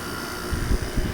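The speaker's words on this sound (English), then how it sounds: "This is how an air conditioner should be running." A GE 5200 BTU window air conditioner runs with a steady, quiet fan and compressor hum, a low constant drone close by.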